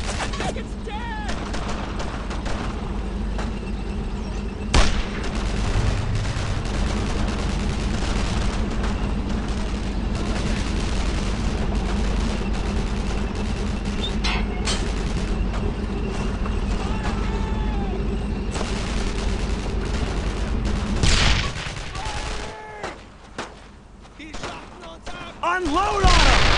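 Gunfire crackles through a Brothers in Arms: Road to Hill 30 firefight as a dense, sustained barrage of shots and booms lasting nearly the whole stretch, with shouting voices underneath, before it drops away briefly near the end.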